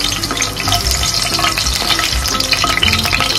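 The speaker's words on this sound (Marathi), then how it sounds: "तेल आपलं तापलंय, त्याच्यात आपण कट केलेल्या पहिले मिरच्या घालून घेऊया" Cut green chillies hit hot oil in a pan for a chicken liver masala, giving a loud, steady sizzle and crackle with stirring clatter throughout, no voices over it.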